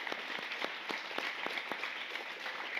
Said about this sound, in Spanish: Un fuerte aplauso para Alex, muchísimas gracias.